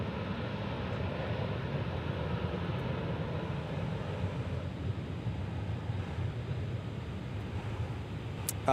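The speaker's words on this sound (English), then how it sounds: "That 777 is headed to Madrid on American Airlines Flight 36, so it's time for a heavy alert." An American Airlines Boeing 777 bound for Madrid takes off at DFW International Airport, producing a steady, distant jet roar that holds evenly throughout, fairly faint and with no voices.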